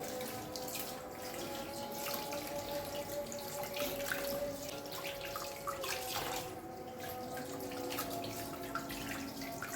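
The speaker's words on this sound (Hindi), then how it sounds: "इधर जो मैं ग्रॉसरी के लिए चिकन वगैरह लाई थी वो भी मैं साथ साथ वॉश करके रख रही थी" Kitchen tap water runs steadily into a sink while raw chicken is washed, a continuous close splashing flow with faint drips and clinks and no talking.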